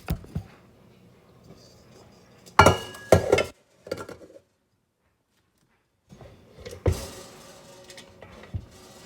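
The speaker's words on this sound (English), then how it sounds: "So they're all transported over into the large bowl for my KitchenAid." Cooked potatoes are scooped into a large KitchenAid mixer bowl, producing a few loud clattering clinks of utensil on bowl in two bursts separated by a quiet pause.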